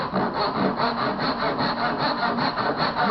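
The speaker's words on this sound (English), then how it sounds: "just using your tenon saw, 1, 2, 3" Tenon saw cutting through wood in quick, even back-and-forth strokes, a steady rasping rhythm close to the listener and loud throughout, with no voices.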